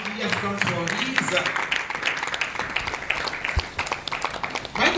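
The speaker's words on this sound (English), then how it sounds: "Round of applause for Michael Oladiji." Applause for Michael Oladiji at an honorary doctorate ceremony: a crowd claps steadily while an announcer's voice carries over it, with a loud close thump near the end.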